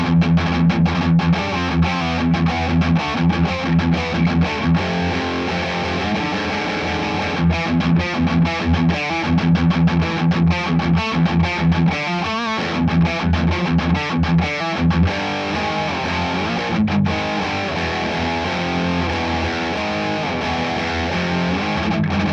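A Blackstar HT20 MKIII guitar amplifier in its modern overdrive voicing at about halfway gain produces loud, crunchy distorted electric guitar riffs with chugging palm-muted bursts and sustained chords, played alone.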